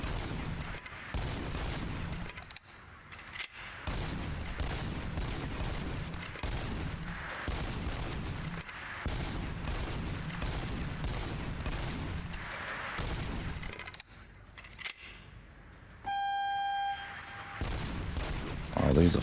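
Rapid gunfire at a shooting range in the video game RoboCop: Rogue City, dense bursts of shots repeating across the whole stretch with brief pauses, a voice talking over them, and a short electronic tone near the end.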